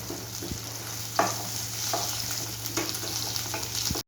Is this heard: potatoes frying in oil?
yes